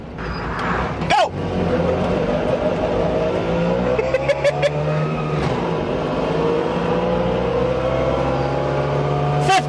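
A car accelerates hard from rest up to highway speed, a loud, close engine note with gear changes climbing steadily over about ten seconds, with a brief sharp knock near the start.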